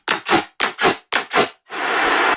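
Five short, harsh bursts of ring-modulated sound with no frequency shifting, each a gritty noisy swell, followed by one longer sustained grinding burst.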